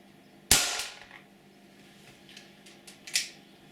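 An ASG Dan Wesson 4-inch CO2 .357 Magnum pellet revolver fires a single sharp, loud shot over a chronograph, followed by fainter mechanical clicks and a smaller snap near the end.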